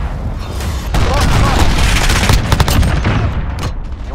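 An enemy cruise missile strike in Call of Duty: Modern Warfare lands in a loud, rolling barrage of close explosions with rumbling booms and crackling debris, swelling and fading over a few seconds.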